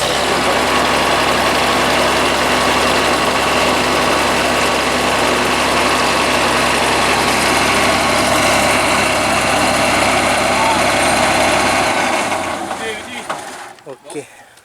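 Diesel engine of a stuck 8060 rice harvester idling loud and steady for several seconds, a deep rumbling drone that cuts off abruptly and rattles to a stop near the end.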